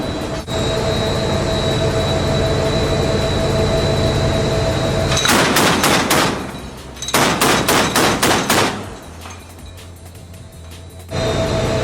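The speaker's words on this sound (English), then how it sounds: "now, we're going to experience what that 30mm cannon is like in action" A 30mm naval cannon fires from the deck of the Type 23 frigate HMS Sutherland in two loud bursts of rapid rounds, the first a brief volley and the second a longer string, over a steady background hum of the ship.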